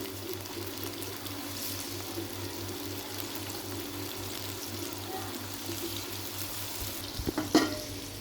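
Chicken and yogurt stirred together in a cooking pot for yakhni pulao, a steady low simmering, sizzling texture with soft scraping and a few louder knocks near the end.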